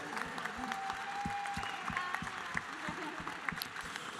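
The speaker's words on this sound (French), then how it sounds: "Un tonnerre d'applaudissements, s'il vous plaît." At a Japan Expo game show, the crowd claps in sustained applause, with distinct sharp claps and a faint voice underneath.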